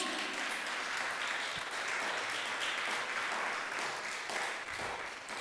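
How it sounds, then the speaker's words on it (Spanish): A church congregation at an online worship celebration gives a steady, dense round of applause that stays fairly faint and distant throughout, with no speech over it. "Y si tú lo crees, dale otro fuerte aplauso a Jesús."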